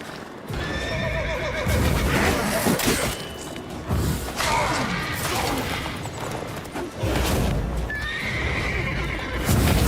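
Horse in the Witcher 3 video game whinnying and snorting as the rider dismounts, with clip-clop hoof steps and soft thuds; a steady, close game soundscape with no talk over it.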